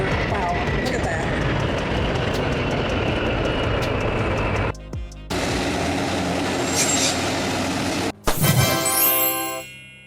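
A Lockheed C-130 Hercules firefighting air tanker flies overhead, its loud, broad engine roar filling the air and briefly dropping out twice before surging again.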